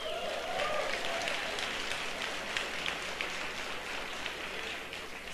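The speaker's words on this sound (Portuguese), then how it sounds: "Uma salva de palmas para vocês" Soft, steady audience applause in a church sermon setting, a faint wash of many hands clapping at a distance without talk.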